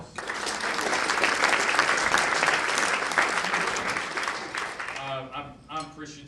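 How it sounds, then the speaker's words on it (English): Audience applause in a bank room used for a Hilldale United Methodist Church gathering. It is steady and full for several seconds, then thins out as voices start to come through at the end. "Another round of applause."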